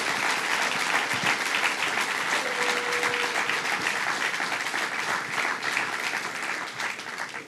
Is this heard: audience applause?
yes